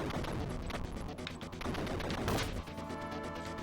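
Rapid bursts of arcade gunfire from the video game Target Earth, shooting at turrets: dense, loud, repeated shots with explosive impacts over a few seconds, with no talk.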